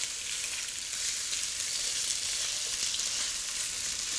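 Chicken wings for honey chicken wings sear in hot oil over high heat, giving a steady, loud, continuous sizzle and crackle close up, with no talking.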